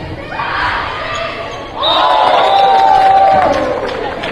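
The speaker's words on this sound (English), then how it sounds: "A little crowd reaction there." A crowd at a high-school volleyball match gives a brief burst of reaction, cheering swelling then fading in a gym, with a ball thudding beneath and an announcer talking over it.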